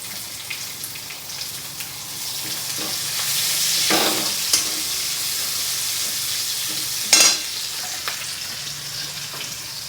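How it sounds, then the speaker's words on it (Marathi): Chopped onion sizzling in a pan with fried ginger and garlic for veg momos, a steady close frying hiss with occasional stirring scrapes and a louder clatter near the end, no voices. "आलं लसूण भाजलं की त्यामध्ये हा कांदा चिरलेला टाकायचा."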